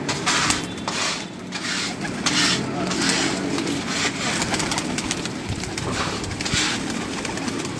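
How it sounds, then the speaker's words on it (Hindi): Paired pigeons on a rooftop coo in a steady low murmur, close and continuous, over a noisy outdoor background with faint mechanical hum. "यह मैं आपको दिखाता चलता हूँ इनके जोड़ वाले कबूतर"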